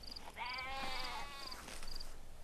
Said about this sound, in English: That sheep isn't ill. It's giving birth.